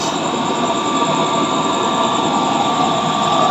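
A used-oil stove burner on a drip feed roars loudly and steadily, a dense continuous rush with no pauses or voices.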